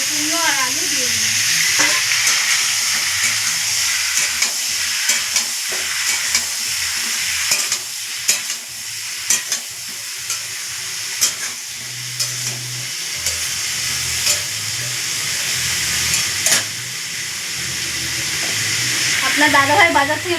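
Ash gourd and potato hit hot oil in a frying pan for a shrimp curry, giving a loud, steady sizzle and hiss with scattered stirring clicks and scrapes throughout, plus a brief low hum and faint voice traces near the end.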